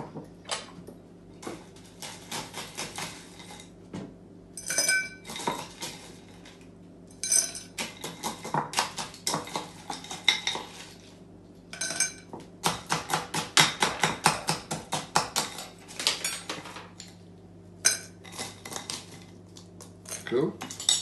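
Crushed ice is scooped into a chilled glass straight from the freezer, a series of close clinking, rattling bursts of ice and metal against glass, with quiet pauses between the scoops.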